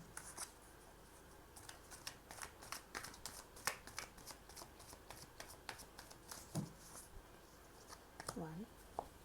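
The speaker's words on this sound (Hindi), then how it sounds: "2 3 4 5 5 कार्ड्स ही आपकी तरफ निकालूंगी।" Tarot cards are shuffled and dealt from a deck in quick, soft snaps and flicks. The sound is faint and close, with someone speaking quietly over the cards.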